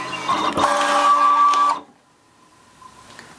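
A Siser Juliet vinyl cutter slices a large design into heat transfer vinyl, giving a steady, fairly loud mechanical whir with a high motor tone for under two seconds, then stopping abruptly into near silence with a faint hum.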